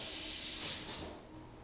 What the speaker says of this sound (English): From there, we can just press our M83 auto air gun button.